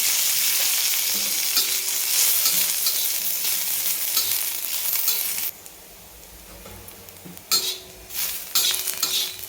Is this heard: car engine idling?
no